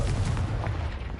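A Confringo spell blast in a Hogwarts video game, heard as a dense, low rumbling burst that stays loud and steady throughout with no talking over it.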